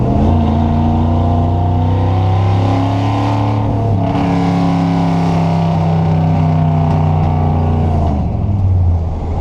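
An older manual car with a three-on-the-tree column shift revs steadily to about 3,200 RPM in second gear, a loud continuous engine drone with rising and falling harmonics, briefly dipping around a gear change, with no talk.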